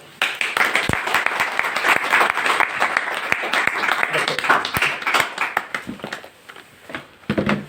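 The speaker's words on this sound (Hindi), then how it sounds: "जल्दी एक बार तालियां हो जाए।" Audience clapping fills the room with dense, steady applause that lasts several seconds before tapering off, with a few scattered claps at the end.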